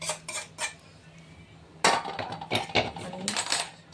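A spoon clinks and scrapes against a pan while chivda snack is mixed, scattered metallic taps at first, then a busier run of clattering strikes.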